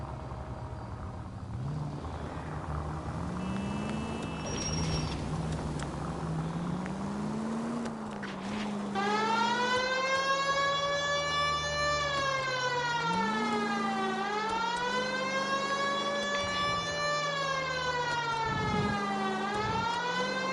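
A police car siren in the video game L.A. Noire wails loudly and close, its pitch rising and falling in long repeated sweeps over a low engine rumble, with no speech.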